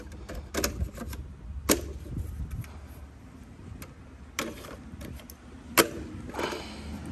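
Milwaukee 5 Ah batteries being fitted onto a Razor MX350 electric scooter, a few sharp plastic clicks and knocks with quieter handling rustles in between, close and otherwise quiet.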